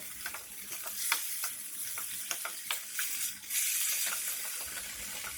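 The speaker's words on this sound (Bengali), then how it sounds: "মোচাটা দিয়ে ভালোভাবে নেড়ে চেড়ে মিশিয়ে নেব" Mashed banana flower frying in a pan while being stirred, with a steady sizzle broken by repeated scraping and clicking strokes of a spatula at close range.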